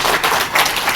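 Audience clapping steadily at a book launch event for a memoir, a dense, even wash of applause filling the whole second without a break.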